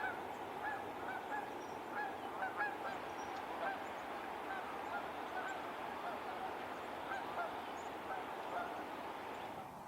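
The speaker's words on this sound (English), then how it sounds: "I became distracted by some noisy geese flying by." Wild geese honk repeatedly as they fly past outdoors along a creek trail, a noisy, steady chorus of calls over a constant background hiss for the whole stretch.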